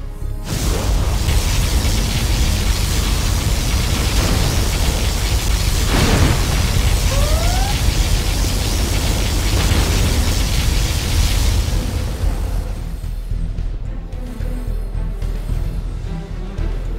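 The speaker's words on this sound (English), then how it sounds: "Particle cannon activated." Particle cannon laser strikes from the Command & Conquer Generals Zero Hour game blast out as a loud sustained roaring explosion with rumbling booms and a brief rising whine, fading into lower crackling noise.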